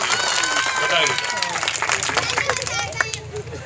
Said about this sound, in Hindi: पहले तो तालियां बजा के उसकी हौसला अफजाई कर दीजिए।